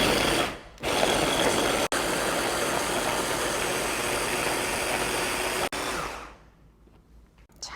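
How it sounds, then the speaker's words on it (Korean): A blender grinds chopped vegetables into seasoning for autumn kimchi, a loud steady motor whir running several seconds with two brief cuts, then winding down to a quieter hum. "이렇게 썰어진 채소를 한번 갈아 볼게요."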